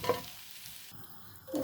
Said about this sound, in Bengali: এখন আমি ফুলকপির তরকারি রান্না করা বসিয়ে দিলাম।